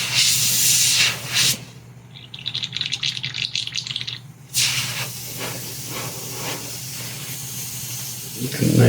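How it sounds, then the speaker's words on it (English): Steady air hiss escapes a cheap, worn airbrush quick connect, loud and broadband at the start, dropping away briefly, then returning as a sustained close-up leak through the rest. "A nice little leak in my"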